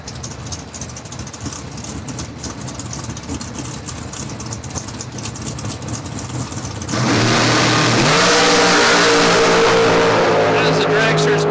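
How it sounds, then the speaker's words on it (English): Dragster engines at a drag strip idle and rumble under announcer talk, then roar sharply louder around the midpoint as one revs hard and holds a loud, sustained high-power blast to the end. "As the dragsters make their way"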